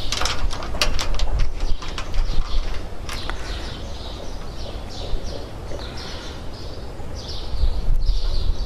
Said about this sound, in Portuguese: E vou fixar aqui o quarto parafuso.